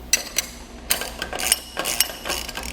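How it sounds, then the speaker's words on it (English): Ratcheting clicks from a 3/4 inch (19mm) wrench and socket tightening a nut on a Malone MegaSport heavy boat two-tier trailer, coming in short, irregular bursts of close, crisp clicks with no talking. "to get this tightened down, we need a 3/4 inch or a 19mm wrench and socket"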